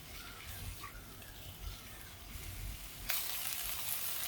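Cauliflower and potato being sautéed over a medium flame, a faint continuous hiss of frying with light stirring scrapes that grows brighter and louder near the end.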